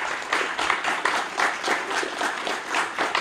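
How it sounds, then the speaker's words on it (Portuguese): An audience claps to welcome a speaker at a talk on Cicero's oratory, a steady, moderately loud patter of many hands with no voices over it. "Peço uma salva de palmas para o rapaz."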